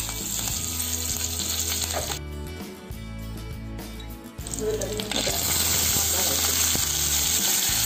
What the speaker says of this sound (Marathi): तेल आता आपलं छान तापलं आहे. त्याच्यामध्ये मी 1 चमचा मी हिंग घालते. नंतर कढीपत्त्याची 4-5 पानं घालते.